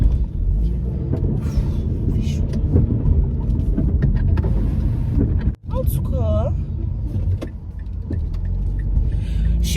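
Steady low engine rumble and road drone fill a car interior as it drives along, continuous and close, with a brief dip midway and a short whining squeak around it.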